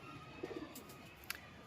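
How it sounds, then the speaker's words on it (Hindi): Soft, distant cooing from a teddy pigeon in a breeding loft, a few low murmuring coos in a quiet setting followed by a brief faint chirp. "प्योर टेडी कबूतर है।"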